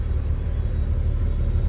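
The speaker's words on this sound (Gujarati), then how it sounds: "ટ્રાફિક છે ને હાવ જામ છે." Heavy truck traffic stuck in a jam near Morbi, a loud continuous low engine rumble and idling drone heard from close by, with no voices.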